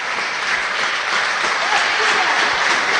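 Wrestling crowd cheering and applauding for Arik Cannon in a steady, loud wash of clapping and noise with no break.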